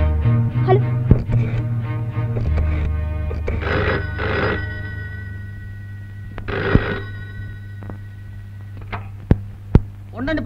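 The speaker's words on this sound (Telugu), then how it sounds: "ఫోన్ వచ్చిందండి" A telephone bell rings in repeated short bursts over a low, steady hum, close and fairly loud, and a voice speaks between the rings.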